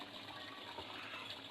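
Water gushes steadily into a pot of chicken nihari as it cooks, a continuous, fairly quiet pour with no one talking.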